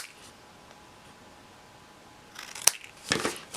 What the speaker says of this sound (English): snip off my corners